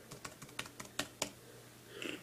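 Rapid keystrokes on a Mac computer keyboard, a quick run of close, crisp clicks with uneven rhythm, typed into a search field, followed by a brief softer rustle.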